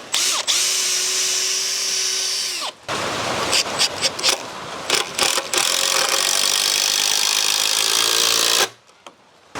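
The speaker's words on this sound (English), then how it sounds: "we're just going to drill a hole" A power drill bores a hole through wood for a mud kitchen build, giving a loud steady whine that stops, then breaks into a series of short bursts and rattles before cutting out.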